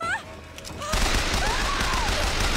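Gunfire in the BioShock Infinite video game, a dense, continuous burst of shots that kicks in about a second in and roars on without pause, loud and close, over faint earlier background sounds.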